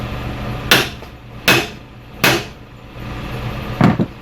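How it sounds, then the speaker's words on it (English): A hammer whacks a ball joint to seat it in a 2007-2014 Cadillac Escalade control arm, three loud evenly spaced metallic blows followed by a quicker double hit, close and with no talking. "You want to whack this a couple of times and make sure that this ball joint is seated all the way."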